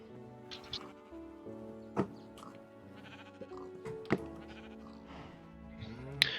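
Sheep bleat repeatedly in the Minecraft video game, several sharp bleats standing out over a steady layer of game music and ambient tones, moderately loud and close.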